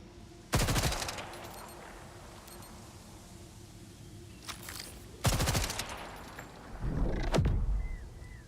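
Grenade blasts in the video game Borderlands 4: three loud explosive bursts with a sharp onset, spaced a few seconds apart, each trailing into a short rumbling decay over quiet ambience.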